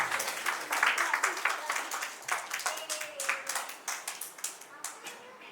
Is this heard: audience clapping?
yes